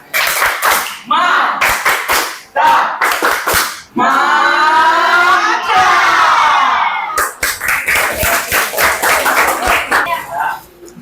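Audience clapping in bursts, loud and close, broken by a long stretch of sung or chanted voices in the middle before the applause returns.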